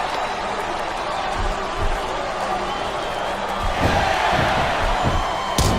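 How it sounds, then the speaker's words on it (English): A video game crowd in SmackDown Vs. Raw 2007 wrestling roars steadily with cheering and a few sharp impacts throughout, loud and dense, with some voices mixed into the noise. "I love hearing the crowd come alive"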